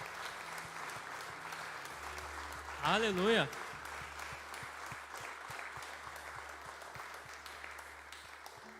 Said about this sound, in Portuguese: dê um lindo aplauso a Ele